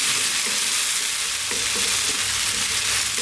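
Canned corned beef hash frying over lively heat in a pan, a continuous dense sizzle with repeated scraping and stirring strokes breaking through, close and loud with no voice.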